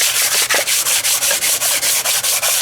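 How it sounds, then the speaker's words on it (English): A new CNC machine in a workshop skims car engine cylinder heads flat for a head gasket job. A loud, rasping cut repeats in an even pulse about five times a second, close and steady, with no voices. "we got a new CNC in here. We're gonna just put a skim on these heads."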